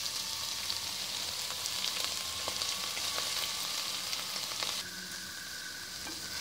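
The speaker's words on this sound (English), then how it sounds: "Our soya chunks and carrots have been fried nicely." Soya chunks and carrots fry in a pan for veg haleem, giving a steady close sizzle with small crackles and stirring scrapes, and no talking.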